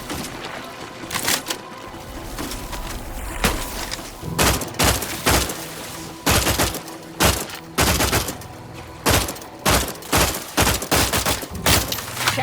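Rapid bursts of automatic gunfire in the sci-fi shooter game Outer Worlds 2, loud and close, coming in repeated volleys with short pauses between them.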